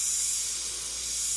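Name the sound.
spray paint hissing onto Claybord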